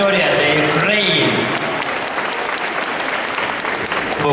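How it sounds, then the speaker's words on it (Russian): Audience applause in a Moscow arena at the 2011 IFAGG aesthetic group gymnastics final, loud crowd clapping that swells and holds, with an announcer's voice and music fading over the first second. "Ваши аплодисменты."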